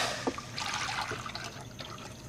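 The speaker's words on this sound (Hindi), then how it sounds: "कढ़ाई में हम दूध डालेंगे।" Milk poured into a kadai for sheer khurma, with a short liquid trickle and splash close by, quiet and brief.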